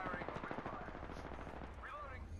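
Rapid automatic gunfire in the video game Apex Legends, a steady close rattle of shots under a game voice that speaks over it.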